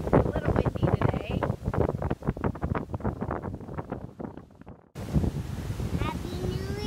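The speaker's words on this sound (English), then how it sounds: "A little windy today." Strong wind on Little Corn Island, Nicaragua, in the Caribbean, roaring and buffeting close against the microphone in continuous loud gusts, with a brief cut partway through and no talk.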